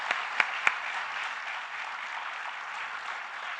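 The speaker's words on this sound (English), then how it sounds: "Let's clap for them." An audience at a school Founders' Day event claps steadily in a wide, reverberant space, with a couple of sharp, nearer claps early on over a continuous, even wash of applause.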